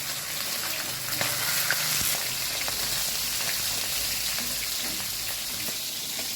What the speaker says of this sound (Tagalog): prito ko muna yung ulam ng anak ko